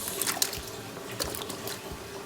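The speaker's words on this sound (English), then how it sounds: "So next we're gonna pour in our sweet potatoes" Sweet potatoes tipped into a pan of water for homemade dog food, giving a soft watery splash and trickle with a few gentle plops, close and fairly quiet.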